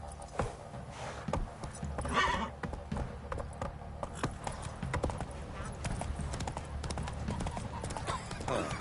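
Horse hooves clip-clopping while riding in The Witcher 3: Wild Hunt, a steady rhythmic beat of close hoofbeats with a whinny near the start, under brief spoken lines and game ambience.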